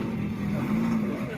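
A car engine revs at a car show, a loud sustained low motor drone that rises and holds near the listener for just over a second amid crowd noise.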